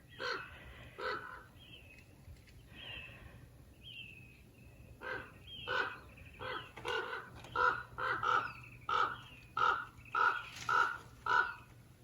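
Large birds caw in a garden, scattered calls at first that build into a steady rhythmic series of harsh caws, moderately distant and clear over quiet surroundings.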